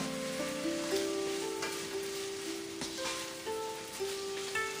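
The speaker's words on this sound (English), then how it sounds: "I'm gonna continue to stir fry." Shrimp and bean sprouts stir-fry in a hot pan for spring rolls, giving a steady close sizzle broken by occasional clinks and scrapes of stirring, with no talking.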